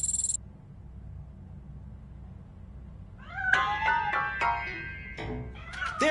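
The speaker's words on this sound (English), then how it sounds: "That cat must be hiding inside." Cat meowing inside a piano in Robocop Rogue City, a couple of short, clear meows arriving after a quiet stretch of low background hum, with a faint high chirp at the very start.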